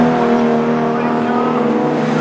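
A yellow MGB race car at Oulton Park drones past with a steady engine note, loud and fairly close, the tone holding even across the short moment.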